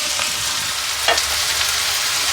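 Minced meat keema frying in oil with fresh coriander and mint, a steady close sizzle with a brief stir around the middle, no talk.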